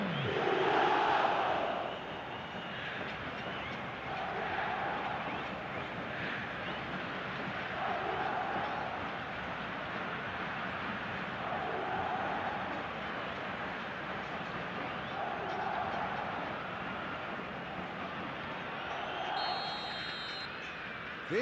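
A football stadium crowd roars steadily during a match, the noise swelling in regular waves like rhythmic chanting, distant and sustained throughout.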